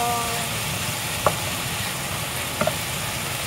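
Mushrooms and vegetables sizzling in a pan, a steady hiss with a couple of light clicks from stirring.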